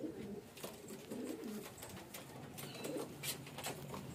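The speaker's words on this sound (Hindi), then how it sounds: "ये दूसरे नंबर का नर कबूतर है।" A small male fancy pigeon with yellow eyes coos softly nearby in a few low, rolling phrases, faint and repeated with short gaps between them.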